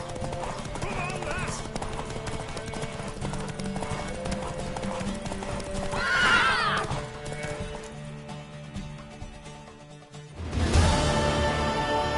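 Hooves clop steadily while a horse gives a sharp whinny partway through in the video game Witcher 3, with speech and game sound effects around it.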